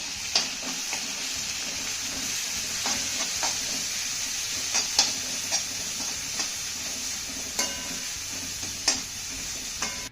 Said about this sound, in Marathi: हा कोबी आणि टोमॅटो आपल्याला अर्धा मिनटं चांगला परतून घ्यायचा आहे